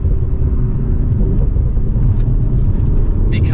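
A 2024 Audi RS5 Coupe Competition with a Steptronic automatic pulls away under mild acceleration, its engine a steady deep rumble heard from inside the cabin, continuous and fairly loud with no talk over it.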